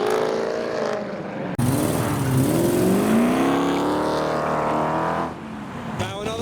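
Engines rev and roar as cars, including Chrysler 300s, drive off from a street car meet, loud rising and falling engine notes close by with a brief break partway through.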